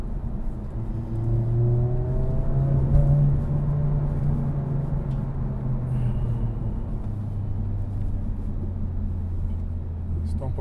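Honda Civic Type R driving, a steady low engine drone and road rumble with a rising pitch as it accelerates, while people talk inside the car.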